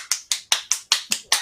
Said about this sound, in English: This is how I clap.